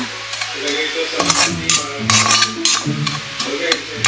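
Moringa (malunggay) leaves dry-roasting in a very hot pan, with repeated scraping strokes of a utensil stirring them and a light crackle close by.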